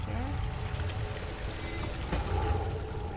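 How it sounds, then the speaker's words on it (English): Liquid pours into water in the horror game Amnesia: The Dark Descent, a steady splashing stream that runs throughout against a dense, loud background. "So you pour it in the water"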